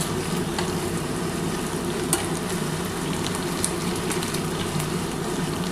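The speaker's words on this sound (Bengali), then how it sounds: "এবার এইগুলো ভেজে তুলে নেবো" Gulab jamun balls made from bread and milk frying in hot oil, giving a dense, even, continuous sizzle close up with no voices.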